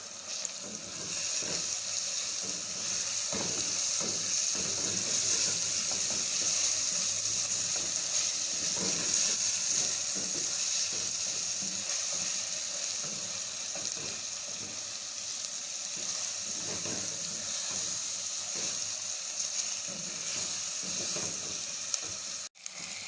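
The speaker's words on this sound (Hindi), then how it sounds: "2 चम्मच अदरक लहसुन का पेस्ट डालेंगे और इसे थोड़ा सा फ्राई करेंगे" Steady sizzling of ginger garlic paste frying in hot oil, continuous and fairly loud, with occasional stirring scrapes and no talking.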